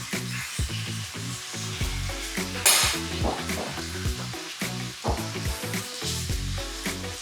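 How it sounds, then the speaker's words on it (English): Butter melting and sizzling in a hot pan for scallops gives a steady, soft crackling hiss that runs under louder background music throughout. "Melt this butter"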